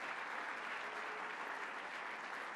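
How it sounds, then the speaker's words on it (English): An audience applauds Bronx Borough President Vanessa Gibson at a public event, with continuous, even clapping from a sizeable crowd throughout, no voices rising above it. "Let's give her a round of applause."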